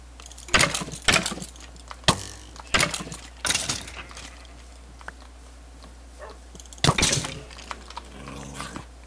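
Dogs in a video game bark in sharp, loud bursts, several close together, then a pause and a couple more yelps, over faint background clicking, with no speech.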